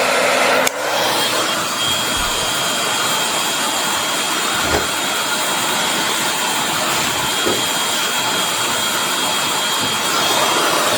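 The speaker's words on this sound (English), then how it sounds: "And then you just turn on your hair dryer." A hair dryer fitted with a Hot Shot Tools Golden Hot attachment switches on with a click and then blows in a loud, steady whooshing roar, with small bumps of handling noise.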